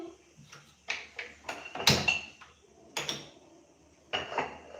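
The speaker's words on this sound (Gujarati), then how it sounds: "ગેસ ઉપર એક પેન મૂકીશું." A pan set down on a gas stove in a home kitchen while preparing dal kachori, giving several sharp metallic clanks and knocks spread over a few seconds, close and fairly loud, with no talking.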